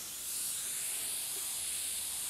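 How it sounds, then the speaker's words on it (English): Steady airbrush spray hisses close up throughout, an even broadband rush of air and paint with no pauses. "Give a spray over here"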